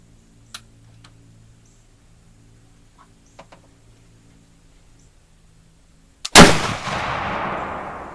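A Traditions black powder muzzleloader rifle fires one loud shot at a 50-yard target after several seconds of quiet clicks, the sharp blast trailing into a long rumbling decay.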